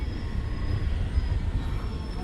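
A coal-loaded freight train at Korba railway station rumbles steadily with heavy low-end wagon noise and a faint high whine, continuous and fairly near, with no voices.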